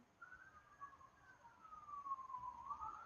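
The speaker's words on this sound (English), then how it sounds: "there's more sirens going by my house" Police siren passing outside a house, faint and distant, a single wailing tone sweeping slowly up and down and growing a little louder over a few seconds.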